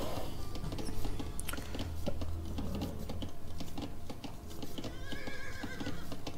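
Horses of cavalry units in Age of Empires 2 whinnying and clip-clopping amid busy game sound effects, with steady clicking throughout.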